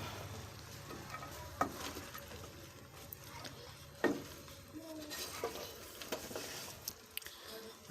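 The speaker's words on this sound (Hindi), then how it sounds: "सब्ज़ी हमने डाल दी है। अब हम इसको अच्छी तरह से मिक्स करेंगे।" Mixed vegetables are stirred in a cooking pot with a soft, steady sizzle and scraping, a few louder clinks of a spoon against the pot standing out, heard close and fairly quiet.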